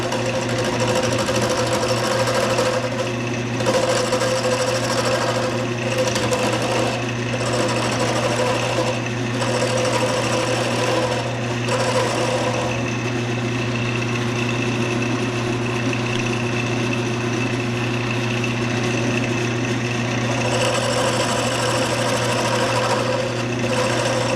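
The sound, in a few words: wood lathe turning a pen blank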